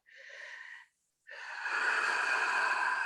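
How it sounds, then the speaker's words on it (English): A slow breath in followed by a longer, airy exhale, close to the microphone, with no talking. "Take a nice deep breath."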